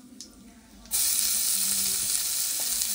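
Crushed ginger-garlic paste dropping into a hot pan for shahi paneer, bursting into a loud, steady close sizzle after a quiet moment with a few soft clinks.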